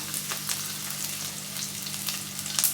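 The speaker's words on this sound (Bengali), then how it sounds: "একটা মিডিয়াম সাইজের পেঁয়াজ কুচিয়ে নিয়েছি এটা দিয়ে দিচ্ছি" A medium onion, finely chopped, fries in a pan with a continuous close sizzle, marked by light scraping and stirring clicks.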